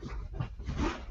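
Puppies make brief soft whimpers and small yelps close by, in a short, uneven burst.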